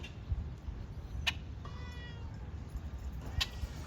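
A cat aboard a sailing boat gives a few short, thin meows against a steady low hum of wind and water, fairly faint and spaced out over a few seconds, no talking.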